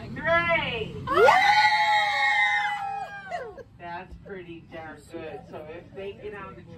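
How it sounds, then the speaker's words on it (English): A family on a road trip screams together inside a vehicle, a long, loud group shriek that trails off into scattered short yells and laughter. "I want hands in the air, and I want to hear y'all screaming"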